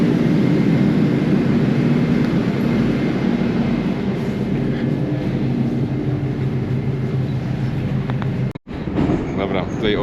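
A Moscow metro train runs with a loud, steady rumble and rattle throughout, close and continuous, cutting out briefly near the end; a voice talks over it at times.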